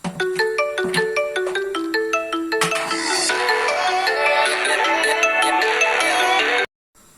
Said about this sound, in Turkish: Çok pardon arkadaşlar telefon çaldı.